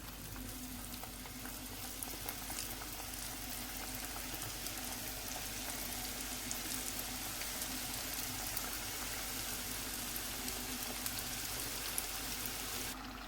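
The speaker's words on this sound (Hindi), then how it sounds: "जब ऑयल गर्म हो जाएगा तो फिर आपने हल्की आंच पे इनको गोल्डन फ्राई करना है।" Vegetable spring rolls frying in hot oil in a pan over low heat, giving a steady, even sizzle and crackle with no talking.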